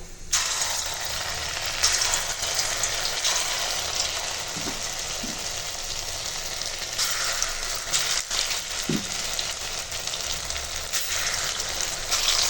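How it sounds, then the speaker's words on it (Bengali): Lentil fritters (masoor dal bora) frying in hot oil, a steady, dense sizzle that holds for the whole stretch, with a few faint clinks of a utensil partway through. "তেল গরম হয়ে গেছে আর বড়াটা ভালো করে ফেটিয়ে নিয়েছি তো এখন বড়াগুলো ভেজে নেবো"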